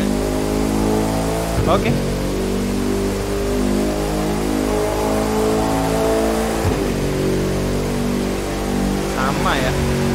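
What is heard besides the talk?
Bugatti Chiron engine revving in video game The Crew 2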